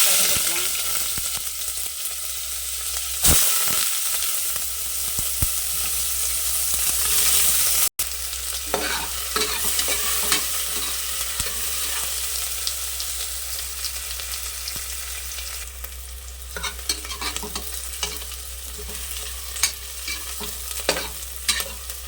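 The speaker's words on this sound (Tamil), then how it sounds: "ஆயில் சூடாயிடுச்சு பட்டை கிராம்பு ஏலக்காய்லாம் போட்டுக்கலாம்" Cinnamon, cloves, cardamom and onion frying in hot oil, a loud continuous sizzle with a sharp burst as the spices hit, then stirring scrapes and crackling, with no voices.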